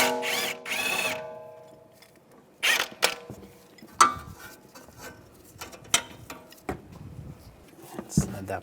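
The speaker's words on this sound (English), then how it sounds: "I'm going to use an 18mm wrench on the nut right here and a 16mm socket on the bolt." A ratchet and 16mm socket work the lower shock bolt on a 2004–2010 BMW X3 while an 18mm wrench holds the nut. Close, sharp metallic clicks and clanks come in irregular bursts with pauses between them, and there is no talk.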